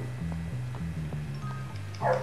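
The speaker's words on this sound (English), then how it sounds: "Oh the dog's mad!" A dog barks in the video game Bully, with repeated yapping barks over a looping low music bed, steady and moderately loud, ending in a brighter burst of sound.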